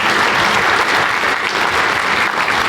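A keynote audience at a product announcement event breaks into a steady, dense round of applause, loud and close, sustained throughout without any speech.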